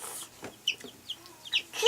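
Young Orpington chicks in a brooder give a few short, high peeps and chirps, spaced irregularly and fairly close, in a quiet room without talking.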